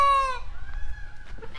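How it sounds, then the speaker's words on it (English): Peacocks calling outdoors: one loud, harmonic, wailing call opens the moment and cuts off quickly, followed by a fainter, thinner tonal cry over low background rumble. "So that's the noise of the peacocks."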